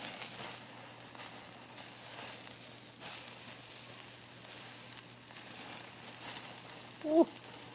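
Steak sizzling in a pan at a motorcycle camp, a steady, faint hiss that runs the whole time, with a short louder knock near the end.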